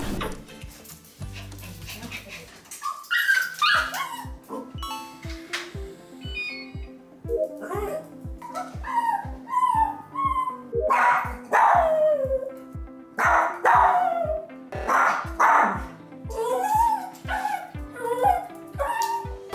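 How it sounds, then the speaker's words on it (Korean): An excited dog with separation anxiety barks and yips in rapid, steady succession at close range during an in-home training visit, with whining, high-pitched cries mixed between the sharp barks for the full stretch. "좀 더 많이 짖은 것 같으세요?"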